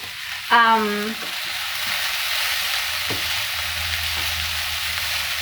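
Dinner frying in a pan: a steady, broad sizzle runs throughout at moderate level, with a brief scraping clatter near the start and a soft knock later.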